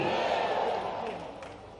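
A crowd at an outdoor public event in Indore, a college inauguration and foundation-stone ceremony, chants back in unison, a broad sustained roar of many voices that fades slightly toward the end.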